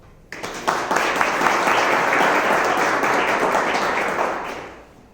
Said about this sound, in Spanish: Y démosle la bienvenida con un aplauso